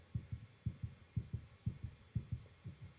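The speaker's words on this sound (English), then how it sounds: "The 2 heartbeats." Heartbeat sound effect from a TV drama: paired low thumps repeating steadily, loud and close, with a faint hum beneath and no voices.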